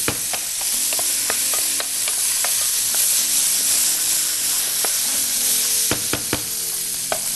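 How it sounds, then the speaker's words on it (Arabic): Lamb meat browning in a hot pot gives off a loud, steady sizzle and hiss, with occasional sharp clicks and scrapes of stirring cutting through the frying. "أنا عايز اللحمة تتحمر كويس"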